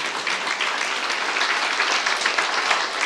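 A church youth-group congregation at a sermon claps together in a steady, fairly soft wash of many hands, with no voices standing out.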